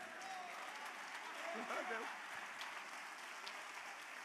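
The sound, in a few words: church congregation applauding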